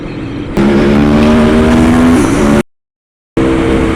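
Aprilia Tuono V4 motorcycle engine pulling hard through the gears, loud and close, with a steady rising drone that briefly drops to silence near the end before the roar resumes.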